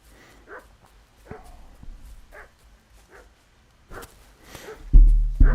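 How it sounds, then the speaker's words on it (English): A dog in the medieval role-playing game Kingdom Come Deliverance 2 barks in short, scattered bursts over quiet ambience, followed by a sudden loud thump near the end. "What's that dog making such a fuss about?"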